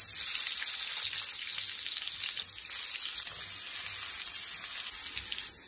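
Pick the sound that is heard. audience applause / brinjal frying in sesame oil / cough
brinjal frying in sesame oil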